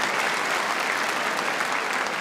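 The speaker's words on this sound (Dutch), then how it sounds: "mooi dat applaus" A crowd in Leeuwarden applauds at a stallion inspection event, a dense, even roar of clapping that holds steady throughout.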